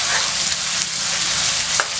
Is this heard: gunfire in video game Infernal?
no